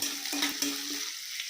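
Ginger, green chili and cashew pieces stirred in a hot pan, giving a brief scrape of the spoon over a continuous close frying hiss.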